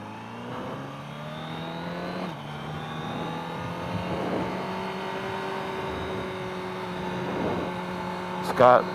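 A 2023 Honda Fireblade SP 1000RR-R engine with an Akrapovic exhaust hums and rises in pitch as it revs toward 14,500 rpm, climbing and holding high, with a brief louder burst near the end.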